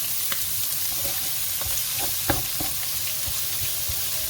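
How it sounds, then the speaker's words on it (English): Chopped onion, about half an onion cut small, sautéing in a pan as a paella base: a steady continuous sizzle with faint stirring clicks and scrapes scattered throughout, close and moderately loud, no voices. "I'm gonna toss some onions in there now."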